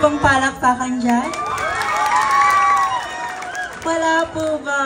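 An audience at a costume parade cheers and whoops loudly in a sustained swell that peaks mid-way, framed by a host's amplified voice speaking before and after.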